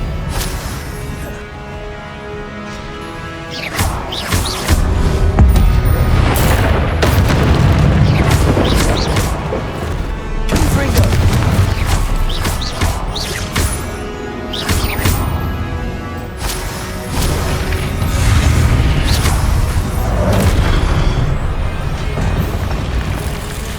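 Confringo explosive spell blasts in Hogwarts Legacy, loud booming explosions rolling one after another with crashing debris, dense and continuous with no pause.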